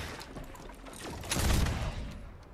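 A brief flurry of Fortnite gunfire from the original version of the game, during a plane flight, rises into a loud burst of rattling shots midway, then fades, with no talk.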